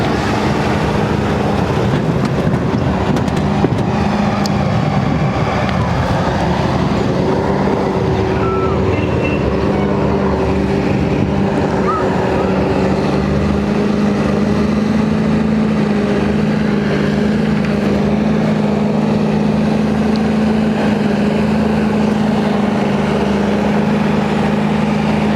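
Old military and emergency vehicles roll past in a Memorial Day parade in Piqua, a steady loud engine rumble with a low droning hum that holds throughout without a break.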